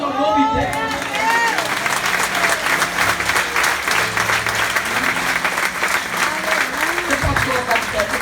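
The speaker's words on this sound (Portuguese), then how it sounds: "Aplauda o nome dele." A church congregation applauds loudly and steadily, with voices calling out and singing over the dense clapping throughout.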